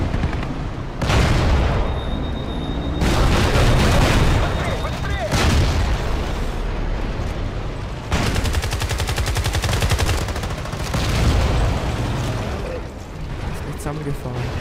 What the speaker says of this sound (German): ich habe irgendwie 10-mal auf dich mit dem Panzer geschossen